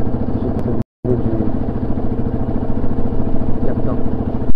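A quad bike's engine chugs and idles with a steady, close rumble in Paris traffic jams, briefly cut out once, running continuously without talk.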